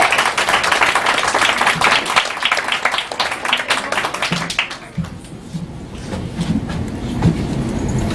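Applause from the crowd at a slam poetry session in a Montréal bar, loud and dense for about five seconds, then thinning to scattered claps and a quieter room.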